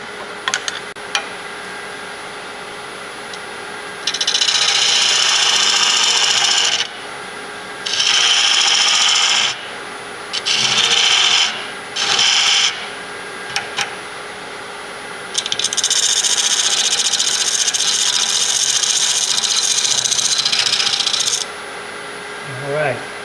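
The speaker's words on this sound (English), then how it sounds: "I'm going to take a skew to make my dovetail" A skew chisel cuts a dovetail in wood spinning on a lathe, with several loud scraping, hissing bursts of cutting separated by short pauses and a long final pass.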